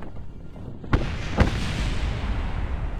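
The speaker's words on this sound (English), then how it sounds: "I think there's 2 explosions with the side rockets going off and hitting the ground finally." Rocket explosions in the video game Kerbal Space Program: two sharp, loud blasts land about half a second apart, then a steady rumbling roar carries on with no talk.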